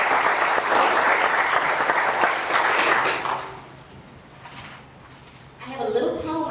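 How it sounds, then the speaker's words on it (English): Audience applause at a student recital fills the room loudly for about three seconds, then fades to a quiet murmur before a few faint sounds return near the end. "I think they deserve a round of applause right now."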